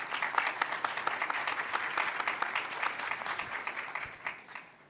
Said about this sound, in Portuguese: Peço uma salva de palmas para o Fernando.